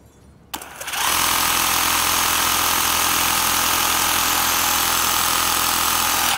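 A Greenworks 24 volt battery power washer starts after a short click and quickly rises to a loud, steady whine and spray hiss that holds unbroken to the end.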